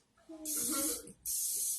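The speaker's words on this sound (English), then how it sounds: "you're going to spray your egg rolls." Two bursts of cooking oil aerosol spray hiss onto egg rolls, the first longer, with a short pause between, close up over faint background sounds.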